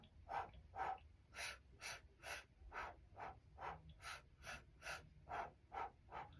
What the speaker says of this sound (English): we're going to do the same thing, rapid breathing